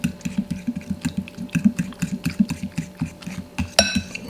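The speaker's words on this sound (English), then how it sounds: "We're just gonna take and whisk that all together." A fork whisks waffle batter briskly in a bowl, giving a rapid, regular series of close clicking taps against the sides, ending with a sharper clink.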